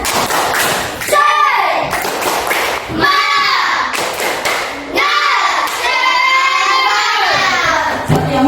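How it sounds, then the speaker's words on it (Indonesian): A group of children chants loudly in unison, punctuated by rhythmic bursts of clapping and thumps between the chanted phrases. "Oke, kita coba tepuk semangat."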